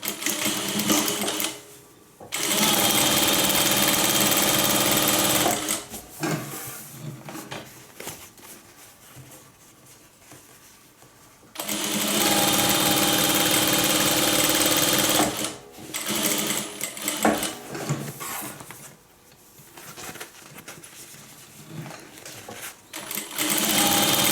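A sewing machine stitches a 1/4 inch seam on a zipper pocket, running in long loud bursts that stop and start, with quieter gaps between runs.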